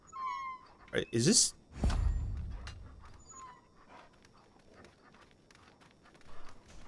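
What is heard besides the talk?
dogs in Far Cry New Dawn video game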